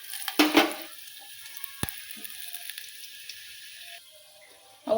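Cumin, mustard seeds, urad dal and chana dal hitting hot oil for upma, giving a sharp crackling burst at first, then a soft steady sizzle with occasional pops and a stir near the end.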